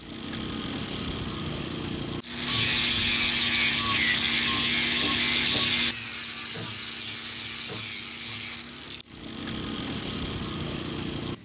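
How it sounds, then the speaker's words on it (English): Grinder fitted with P24 grit working the edges of a hurricane-damaged catamaran hull, a loud, harsh abrasive whine for several seconds that drops to a quieter mechanical run, then returns. "Then we grind the edges off with a grinder with P24 grit until there is a smooth transition."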